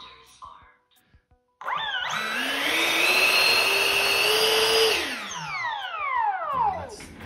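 Electric ducted fan on a foam board F-18 Super Hornet model runs up at half throttle, a loud, steady high-pitched whine that spools up sharply, holds for about three seconds, then winds down with falling tones; brief talk before it.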